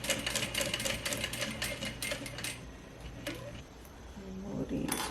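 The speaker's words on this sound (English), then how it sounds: "I'm still trying to get used to my sewing machine. I haven't stitched in a minute." An industrial Juki DDL 8700 sewing machine stitches in rapid bursts of close mechanical clatter, pausing and restarting, with a quieter stretch and some handling noise near the end.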